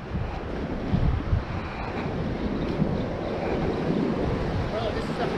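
Ocean surf washes against a rocky shoreline at Kihei, Maui, Hawaii, as a continuous low roar with gusts of wind buffeting the microphone, fairly loud and steady throughout.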